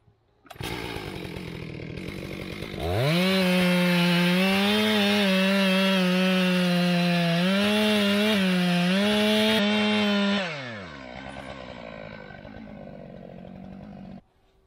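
A Stihl 661 pro chainsaw cuts into a big tree: a loud, steady high-pitched engine roar starts about three seconds in, wavers as the bar bites, and then drops back to a quieter idle near the end.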